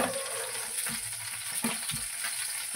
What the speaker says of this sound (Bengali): বেগুনটা ভাজতেও দিয়ে দিয়েছিলাম